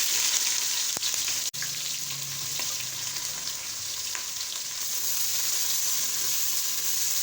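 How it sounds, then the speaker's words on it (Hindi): Sliced onions frying over a high flame in hot oil: a loud, steady, close sizzling hiss runs throughout, with one sharp clack near the start and no talking. "प्याज को हमने गोल्डन ब्राउन होने तक फ्राई करना है।"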